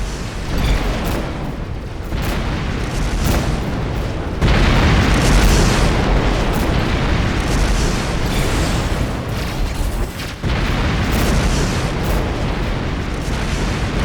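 Missile explosions during a space battle in the video game Rebel Galaxy, heard as a continuous loud roar of booms and blasts with dense rumbling throughout and no clear pauses.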